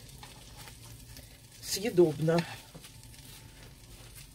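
Lazy meat pies fry in a covered pan with a soft, steady sizzle close by, briefly overlaid by a short spoken word.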